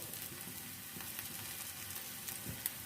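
Crispy potato kebab frying in hot oil over a normal flame, a steady soft sizzle with faint crackles and pops, close and unbroken, with no voices.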